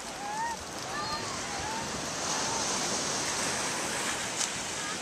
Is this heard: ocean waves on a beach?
yes